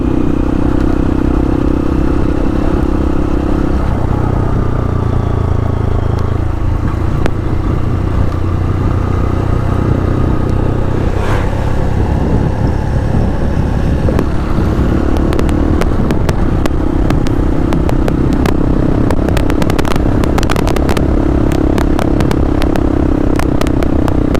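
A motorcycle engine drones steadily throughout, with road rumble and occasional rattling clatter as the bike rides along; no talking.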